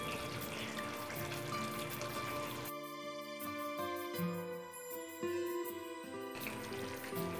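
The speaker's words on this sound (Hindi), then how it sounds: "ग्रेवी में अच्छी सी उबाल आ चुकी है, अब इसमें बरियों को डालेंगे।" Badi dumplings dropping into boiling gravy in a pot, with a steady bubbling sizzle throughout and a brief wetter splashing stretch in the middle, close and moderately loud, no talking.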